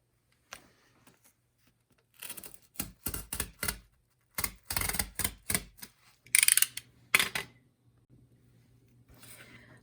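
Cardboard is cut into a stencil for a barn quilt, with close, crisp snipping and cutting sounds in irregular bursts of short strokes between quiet pauses.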